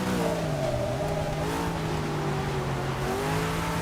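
A 2002 Nissan GT-R racing in the rain in Forza 6, its engine droning steadily at high revs with shifting pitch and wet tire noise, loud and close throughout.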